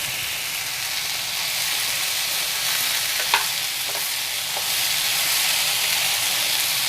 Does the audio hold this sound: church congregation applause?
no